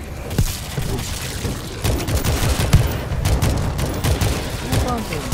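Weapon gunfire in World War Z, rapid bursts of shots and booms crowding together, with someone talking over the fighting.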